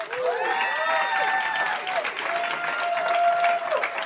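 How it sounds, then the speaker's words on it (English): An audience at a startup accelerator demo day applauds the founders, a continuous wash of clapping with crowd noise and a faint sustained tone from the room's sound system. "let's give it another round of applause for our founders, please."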